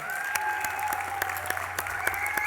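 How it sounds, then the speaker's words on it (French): An audience at an amateur competition night applauds steadily, a continuous wash of clapping with a few sharper claps standing out and a faint tonal hum underneath. "Écoutez, on applaudit Philippe Poinlane,"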